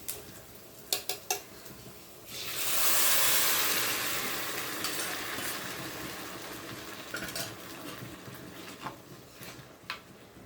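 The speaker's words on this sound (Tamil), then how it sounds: "இப்போ வந்து நம்ம இந்த கீரையை சேர்த்துக்கலாம்" Fresh greens from a home garden go into a pan for a thick South Indian keerai kadayal, letting out a loud rising sizzle that lasts several seconds and then settles, with light utensil clicks and scrapes before and after.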